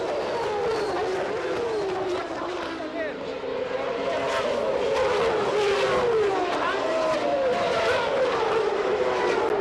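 Formula 1 race cars from 1994 accelerating off the start line, a pack of high-pitched engines screaming and rising in pitch as they pull away, heard under commentary.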